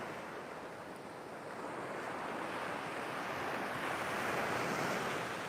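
Ocean waves wash onto the beach at Sam Roi Yot in Thailand in a continuous surf hiss with wind, slowly swelling louder toward the end, and no voices.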